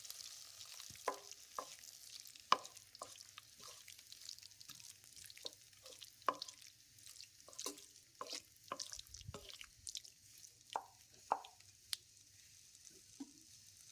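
Tomato chutney with turmeric stirred in a pan: a spoon scrapes and taps in an irregular run of soft clicks over a low, steady background sizzle, with no talking.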